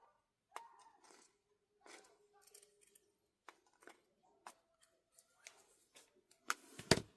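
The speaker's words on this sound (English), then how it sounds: "And I cut these at an angle." Scissors snip at an angle through craft material for Christmas decor, giving several separate close, crisp cuts spaced out over a few seconds, with faint handling noise and a louder rustle at the end.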